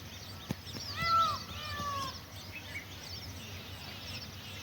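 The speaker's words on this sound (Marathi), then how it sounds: "बघा मोरांचा आवाज येत आहे" Peacocks call outdoors in a rural setting: a few wailing, cat-like cries rise loud and clear in the opening seconds, then fade into a steady background hum.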